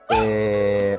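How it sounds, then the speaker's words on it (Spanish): A pet dog lets out a single sustained, tonal howl or whining bark lasting about a second, loud and close, with no talking over it. "disculpen mi perro que está aquí"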